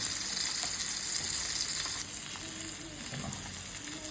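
Malvani-style fish fries in a pan of oil with a steady, moderately loud sizzle and crackle that softens slightly toward the end, with no talk.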